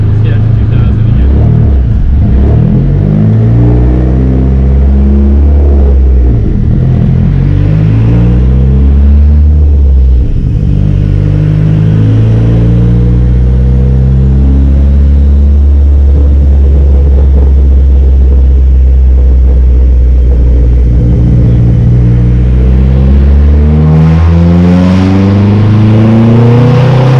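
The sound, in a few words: turbocharged Dodge SRT-4 engine revving on a dyno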